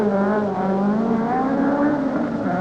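Rally car engine roaring steadily at high revs, loud and close throughout, during a 1979 Eaton Yale rally stage over a jump; no distinct landing thump stands out, just continuous engine drone.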